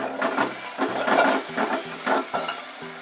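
A spoon stirs chilli pork fry with chilli sauce in a pan, giving a series of rhythmic scraping strokes over a steady sizzle, close and clear, with no voices.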